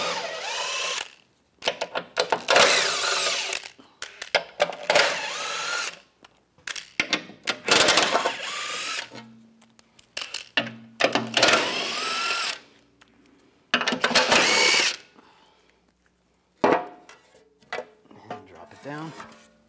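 Power tool with a 16mm socket removing bolts on a 2009-2013 BMW 328i xDrive 3.0L L6 during water pump replacement, loud close bursts of whirring and ratcheting separated by short pauses.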